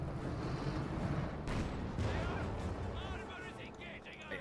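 Tank cannon fire in Company of Heroes 2 amid a battle with a Panther and T-34s: heavy booming shots and rumbling impacts over dense, continuous battlefield noise, loud and close.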